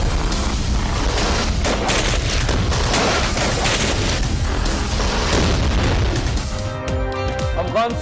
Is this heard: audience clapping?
no